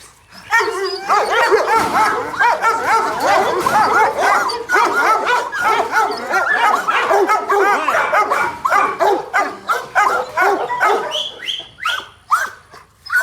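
Working dogs at a K9 kennel yard bark loudly and steadily for most of the stretch, with dense overlapping woofs and yips close by, then the barking thins into scattered calls near the end.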